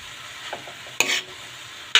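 Bean sprouts (toge) stir-fry in a pan, giving a close low sizzle broken by a few sharp scraping stirs, the loudest near the middle and at the end, with no talk.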